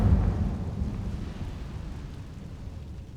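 A Confringo fire spell in Hogwarts Legacy lets out a deep rumbling blast that starts heavy and loud, then slowly rolls off into a low, fading roar.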